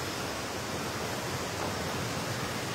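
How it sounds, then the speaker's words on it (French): The Cascade des Combes waterfall in the gorges near Saint-Claude, Jura, gives a dense, even rush of falling water, constant and fairly soft, with no voices over it. "Donc là, les cascades des Combes,"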